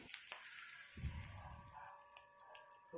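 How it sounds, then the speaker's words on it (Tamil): Onions sautéing in a pan for tomato thokku, a soft frying sizzle with occasional light stirring clicks and scrapes, quiet and close, with no voice over it. "ஒரு நிமிஷம் வெயிட் பண்ணுங்கள், வெங்காயம் நல்லா வதங்கி வரட்டும்."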